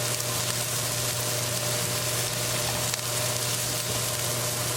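Onion frying in a pan with ginger, garlic and green chili, a steady, close, even sizzle with no pauses and a low constant hum beneath it.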